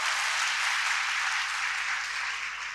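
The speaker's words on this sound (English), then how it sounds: "Clap से बताएं कि आप promise करते हैं उससे." Conference audience at an international nursing conference clapping, a dense, continuous wash of applause from a large crowd, loud and steady from start to finish.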